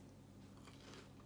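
Biting into a crunchy zucchini fritter, Guyanese style: a short run of crisp crackling bites up close, with soft chewing noise and no talk.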